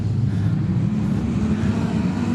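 Wingless sprint cars roar off at a restart on Kingaroy Speedway, a dense, steady low engine drone from the pack sounding continuously.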